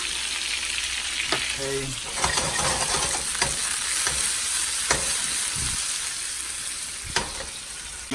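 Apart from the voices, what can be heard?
steak and mushrooms sizzling while basted with butter in pan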